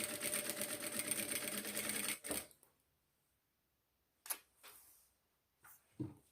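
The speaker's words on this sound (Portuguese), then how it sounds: "eu vou passar um pezinho de máquina, dando retrocesso no início e no final." A sewing machine runs a fast, steady stitch along a fabric seam for about two seconds, then stops, followed by a few sharp clicks and clunks of the machine close by.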